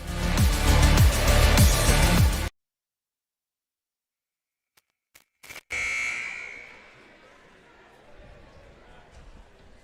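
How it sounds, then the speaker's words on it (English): A gym buzzer sounds at a high school volleyball match before the opening ceremonies, a loud, steady electronic blare for about two seconds. Silence follows, then a few clicks and a burst of crowd noise that fades. "There's the buzzer as we get ready here for the opening festivities here."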